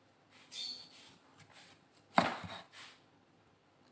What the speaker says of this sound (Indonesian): kita potong-potong, kita cincang